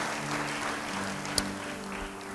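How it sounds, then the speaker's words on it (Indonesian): A church congregation breaks into steady, even applause that fills the room at moderate distance, with a low hum underneath and one brief sharp knock partway through. "Yang percaya beri tepuk tangan bagi dia."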